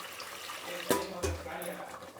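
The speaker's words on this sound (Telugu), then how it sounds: "దీనికి నీళ్ళు వేసుకుందాము." Water is poured into a pot of sambar made with toor dal, giving a short splashing, gurgling pour against kitchen background, with someone speaking over it.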